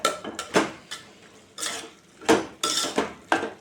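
Metal spoon scraping and clinking against a pot while broad bean and tomato curry with green chillies is stirred, a series of close, irregular knocks and scrapes with short pauses between them.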